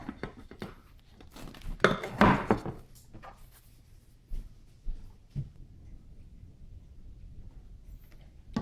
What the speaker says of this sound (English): I'm gonna take a regular plate and set it directly on top of the stack cooker. And I'm gonna flip it over.